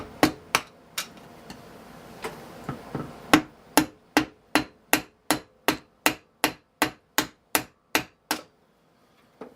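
Sharp metallic hammer taps underneath a part of a Kohler KT17 engine, irregular at first, then a steady rapid series of evenly spaced blows, close and fairly loud, with no talking.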